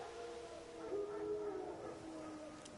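Wild dogs howl in The Witcher 3: Wild Hunt, a faint, drawn-out wavering howl rising and falling over about two seconds at a distance, with no talk over it.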